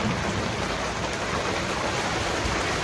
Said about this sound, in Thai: ตอนนี้ฝนก็ตกหนักมากเลยครับ